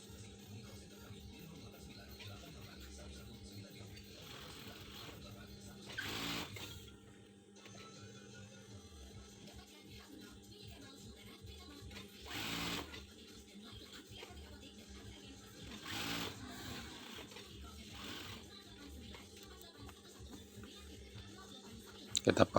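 A sewing machine stitches a pocket in a faint, steady mechanical whirring and ticking that runs for over twenty seconds. A few louder bumps and clicks break in along the way.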